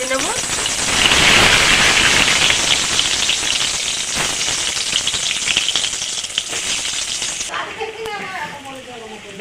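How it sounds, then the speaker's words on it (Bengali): Brinjal slices coated in salt and turmeric hit hot oil, setting off a loud, dense hiss of frying that holds for about seven seconds before dropping away sharply. "তেল গরম হয়ে গেছে, নুন হলুদ মাখা বেগুনগুলো তেলের মধ্যে দিয়ে ভেজে নেব।"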